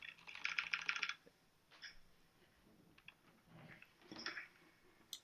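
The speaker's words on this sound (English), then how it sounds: "And this keyboard is mechanical, so it does make a distinct sound." Typing on a Razer BlackWidow Ultimate mechanical keyboard: a fast, loud burst of clicky keystrokes at the start, then scattered softer key taps and a short second flurry, close-up with no talking.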